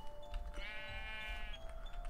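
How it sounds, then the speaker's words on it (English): A single sheep bleat from the video game AstroNOTS, one wavering cry of about a second, close and clear over a quiet low background hum. "Now there was another sheep around here somewhere."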